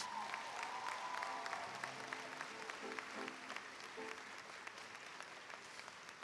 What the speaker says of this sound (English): could you all please give him another round of applause for that message?